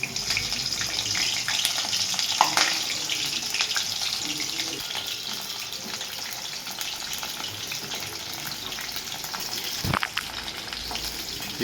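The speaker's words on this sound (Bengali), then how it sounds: "কপিগুলো ভেজে নেব।" Cauliflower pieces sizzle in hot oil, a steady close crackling hiss with occasional sharper spatters and a utensil knock near the end, heard alone throughout.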